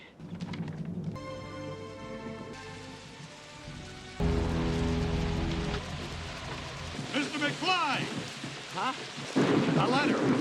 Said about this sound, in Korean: 번개 맞은 드로리아는 마티를 남겨둔 채 사라지고